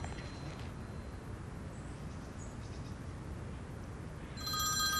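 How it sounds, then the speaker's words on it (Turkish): Steady background hiss, then a telephone starts ringing near the end, a bright electronic ring cutting in suddenly. "Telefonu çalıyor."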